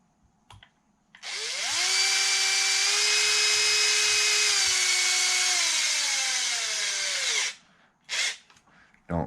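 A power drill driving bolts while setting up the front differential of an Arrma Limitless RC car, one sustained whining run of about six seconds that slows slightly, followed by short clicks and a brief second burst.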